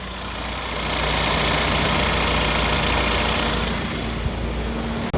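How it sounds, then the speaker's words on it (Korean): A white 2018 Genesis G70 sport sedan idles with a steady, close, even engine rumble, holding constant throughout. "엔진 소리 들려드리겠습니다."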